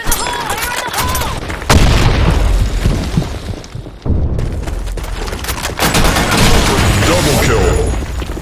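Dense first-person shooter combat: repeated heavy grenade booms mixed with rapid automatic gunfire and sharp single shots, loud and continuous, with shouted voices over the chaos.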